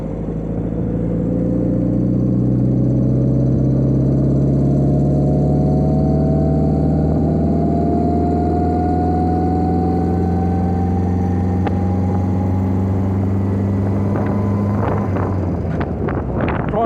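An MG TF sports car engine drones steadily while driving on a ride, its pitch slowly rising through a long pull, with constant wind rush over the microphone and a brief shift near the end.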